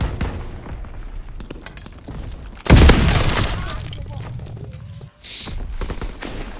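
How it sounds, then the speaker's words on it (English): Incendiary bullet gunfire in the video game Call of Duty WW2: one loud, sudden blast followed by a dense roar of firing that lasts a couple of seconds, then cuts off into quieter game noise. "I've got incendiary bullets to set you on fire."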